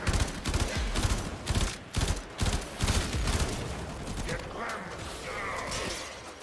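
Rapid gunfire in the shooter video game Warframe rattles in dense bursts through the first few seconds, loud and close, then gives way to quieter mechanical game noise.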